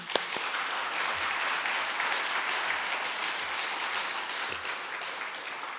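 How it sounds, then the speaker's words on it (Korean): A church congregation at a Friday evangelism service applauds together, a steady wash of many hands clapping that holds at an even level for several seconds with no talk over it. "하나님께 영광의 감사의 박수 한번 불러드리겠습니다"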